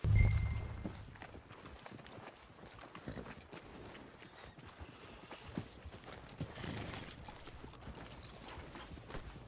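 Horse hooves clip-clop at a walking pace in the Red Dead Redemption 2 video game, a steady, fairly quiet rhythm of hoof falls with faint tack sounds and no talk.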